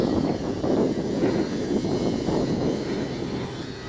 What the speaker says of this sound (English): Up now we have airplanes coming in.